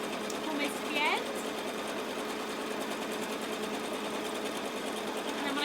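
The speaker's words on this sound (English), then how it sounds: "And then when I get to this top corner, I'm just going to do a back stitch to finish off." A sewing machine runs steadily while stitching a tote bag, finishing with a short back stitch at a top corner. The hum continues throughout, with brief higher squeaks and a person talking over it.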